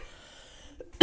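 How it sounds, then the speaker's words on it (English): A single loud cough bursts out at the end after a quiet stretch, close and sharp. "bad cough day"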